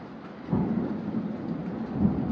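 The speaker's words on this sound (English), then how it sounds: "We're getting a thunderstorm, and it's a good one." Thunderstorm with rolling thunder over a steady wash of rain, a deep rumble swelling about halfway through and sustaining at close, loud level with no voices.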